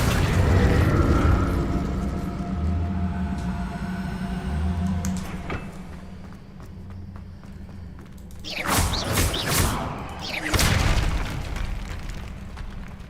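Spell bursts in Hogwarts Legacy, a heavy rumbling whoosh that settles into a low hum, then two sharp crackling blasts of magic close by, with no talking.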